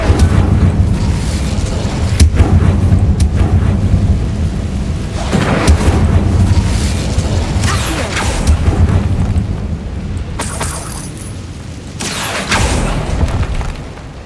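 An Incendio fire spell cast in Hogwarts Legacy brings a loud, sustained roaring rumble with deep booming surges and crackling bursts that swell and ebb over several seconds, with no talking.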